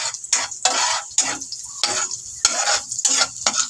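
Corned beef or egg being sautéed in a home pan, with repeated scraping stirs and clinks of a utensil against the pan over a soft sizzle, close and fairly loud in irregular bursts.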